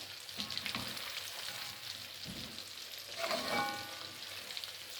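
Steady crackling sizzle of battered gourami fish deep frying in plenty of hot oil, with a few louder bubbling bursts partway through, close and continuous.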